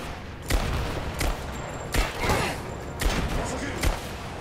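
Gunfire in the Rise of the Tomb Raider video game: several sharp, booming shots spaced about a second apart, loud and close, with a rumbling tail after each and a voice talking between them.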